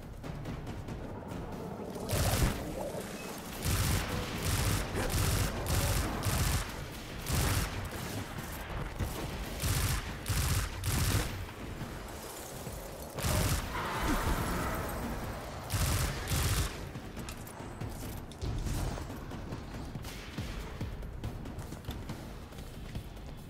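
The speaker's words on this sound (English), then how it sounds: "Got a weird sound to their gun though" Enemy gunfire in the Destiny 2 Warmind campaign: repeated bursts of shots in uneven volleys, loud and close, with quieter mechanical game sounds between them.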